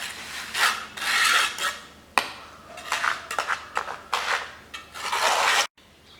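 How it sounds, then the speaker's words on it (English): A trowel smooths the sand surface of a foundry mold, making repeated scraping, rasping strokes of uneven length, close and clear, with brief knocks between passes. "Using trowel you can smoothen the surface."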